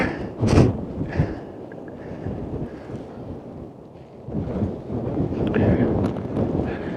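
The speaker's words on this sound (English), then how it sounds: "I can barely hold the camera still, it's so windy." Wind at an outdoor crater site buffets the microphone in low, rumbling gusts that swell and ease throughout.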